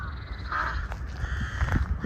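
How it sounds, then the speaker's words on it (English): Crows caw near a cemetery in wintry Vienna, a few harsh calls over a steady outdoor rumble of wind or distant traffic. "I noticed several crows circling the cemetery."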